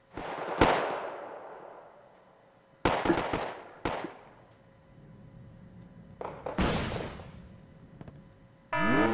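Wargame Red Dragon battle gunfire: sharp, loud cracks and bursts at irregular intervals, some in rapid clusters, each trailing off into a rumbling decay over a low steady hum.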